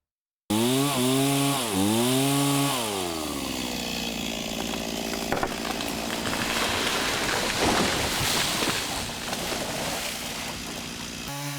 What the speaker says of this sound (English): Every autumn, farmers fell some of the older oak trees